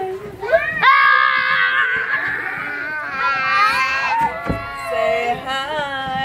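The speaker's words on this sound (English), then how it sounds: "No screaming." Young children in a classroom shriek and squeal loudly together, high excited voices overlapping with crying-like wails for several seconds.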